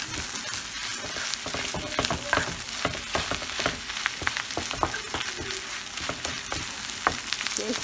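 Cabbage and corned beef fry in a hot pan, a continuous crackling sizzle broken by frequent sharp clicks and scrapes of stirring, close and fairly loud.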